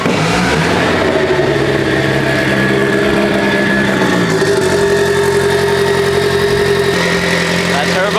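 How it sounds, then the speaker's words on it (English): A Mitsubishi Evo engine runs at a steady idle after a bigger turbo is fitted, with a loud, close, continuous mechanical hum and a thin whine, dropping to a lower settled tone partway through. "That turbo's spinning."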